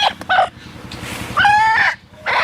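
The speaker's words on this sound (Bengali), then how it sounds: "এই যে 2টা মুরগি, এগুলো বড় মুরগি, ডিম পাড়া মুরগি।" Backyard egg-laying hens cluck and squawk nearby in a village in loud, uneven bursts, with a drawn-out call in the middle and steady low rumbling noise underneath.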